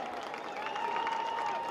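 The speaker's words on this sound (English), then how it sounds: "Please give a round of applause to these young musicians" A crowd at a football game claps for middle school band members, a dense, steady patter of applause from a large audience with a high whistle or tone running through it.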